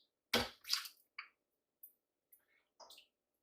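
Butternut squash curry soup ladled into a pot: a few soft, wet squishing plops with quiet pauses between them, close and fairly faint.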